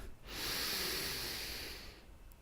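A single long, deep breath drawn in slowly during a sophrology relaxation exercise, a soft airy hiss close to the mic that swells and holds for about two seconds, alone in a quiet room.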